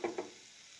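Chilli frying in a pan with oil, two short sizzling bursts close by that quickly fade into a faint, steady hiss.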